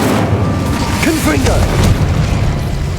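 Incendio fire spell cast in Hogwarts Legacy on Xbox Series X, a loud booming burst of magical flame with crackling texture, set over game music and a voice calling out the spell.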